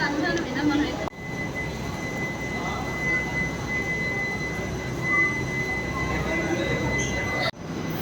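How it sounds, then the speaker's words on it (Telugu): A yellow and brown train rumbles into Cherlapally railway station with a steady, loud roar and a thin high squeal from the wheels running underneath. "ఇదే ట్రైన్ కదా, కమింగ్ ఎల్లో ట్రైన్."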